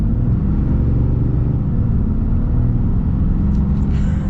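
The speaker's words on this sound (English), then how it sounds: "See how the acceleration is, so full throttle here" A diesel pickup truck accelerates at full throttle, a loud, steady low engine rumble heard from inside the cab, with no talk over it.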